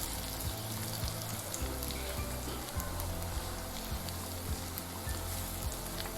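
Frothy batter foam for Malabar panchaara paatta crackles steadily in hot oil, a dense, even sizzle with faint bubbling pops running throughout, close and without talk.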